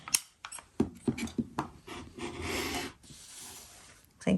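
A fabric quilt block being trimmed with a rotary cutter along a quarter-inch ruler, a series of short close scraping strokes and taps followed by one longer rolling cut, fairly quiet.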